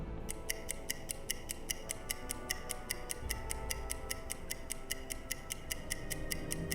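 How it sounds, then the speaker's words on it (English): A stopwatch in a U-boat video game ticking in a fast, perfectly even rhythm of sharp, crisp clicks, clear and close over a soft low background hum. "start the clock."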